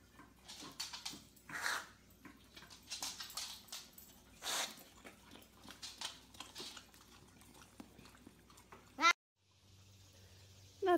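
A dog whimpers and whines in short intermittent bursts while riding on a swing with a boy, mixed with creaking and clicking, ending in a brief loud squeak before near silence.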